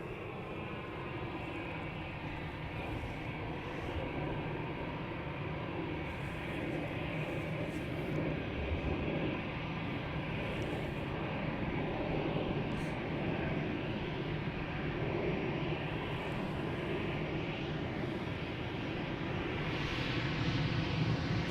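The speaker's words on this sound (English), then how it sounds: "So this is the 17-year-old Aer Lingus 320 headed out to Dublin." An aging Aer Lingus Airbus A320 departs from Amsterdam Schiphol, producing a steady broadband jet roar that holds at an even, fairly loud level throughout and swells slightly at the end, with no voices.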